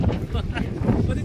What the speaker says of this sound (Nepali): कस्तो हावा चलिरहेछ है यहाँ